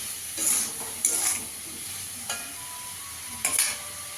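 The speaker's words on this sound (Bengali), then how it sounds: "এক চামচ জিরের গুঁড়ো দিয়ে দেবো, কাশ্মীরি লঙ্কার গুঁড়ো দিয়ে দেবো, ভালো করে কষিয়ে নেবো।" Ground cumin and Kashmiri chili powder are stir-fried in a pan, giving a soft steady sizzle with a few scraping spatula strokes, close and moderately loud with no voices.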